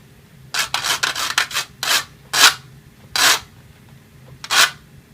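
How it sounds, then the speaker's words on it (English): Rough scraping swipes across a cheese grater, a quick run of short strokes followed by a few slower, separate, louder rasps, close up with no talking. "I have my cheese grater right here, and I'm gonna just create some any abstract sound"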